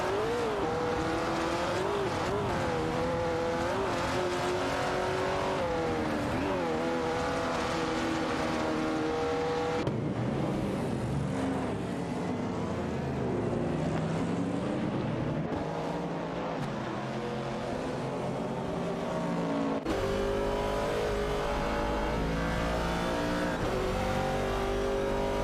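Race car engines roar in an AI-driven racing video game, a steady loud drone of revving motors with shifting pitch, occasional tire squeal and cars sweeping past, with no talk.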